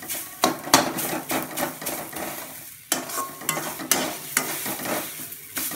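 Bottle gourd being sautéed in a pan for laddu, a sizzle broken by repeated loud scraping and clanking of a spatula against the pan in uneven bursts, with no talking.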